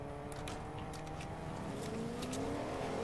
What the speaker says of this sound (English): I hear more cars. Two cars? There's lots of cars.